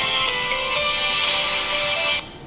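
A mobile phone ringtone chimes during a finance committee meeting, a bright melodic tone with a repeating pattern that plays loudly and then cuts off abruptly near the end.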